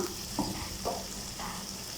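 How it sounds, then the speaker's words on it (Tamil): Sliced onions sauté with garlic and green chillies in a pan for a bottle gourd curry, giving a soft continuous sizzle broken by a few short scraping stirs. "இப்போ வெங்காயம் எல்லாம் சேர்த்து நல்லா வதக்கிக்கலாம்."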